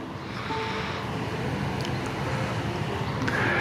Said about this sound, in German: die ersten Wellen kommen rein